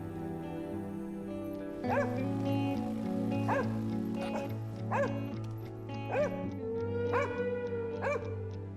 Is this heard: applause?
no